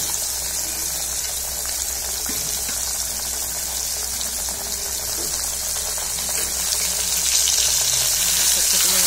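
Elephant foot yam pieces fry in hot oil in a pan, giving a steady, close hiss of sizzling that holds even and continuous and grows slightly louder toward the end.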